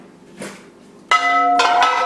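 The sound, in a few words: glass knocking against glass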